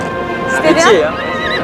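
A semi-wild Mongolian horse at a morning roundup gives a single rising-and-falling whinny over steady outdoor background noise.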